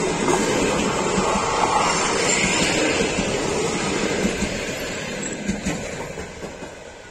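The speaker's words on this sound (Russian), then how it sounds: "ЭП-2К – это электровоз постоянного тока" A passenger train hauled by an EP2K DC electric locomotive, built in Kolomna since 2008, rumbles past close by with clattering wheels and a broad roar that slowly fades.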